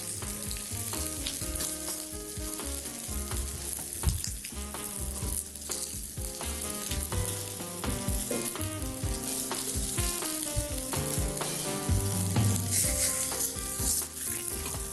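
A sauce with fennel sizzles and fries steadily in a pan in an Algerian cooking setting, a continuous close crackle with occasional stirring and no talk.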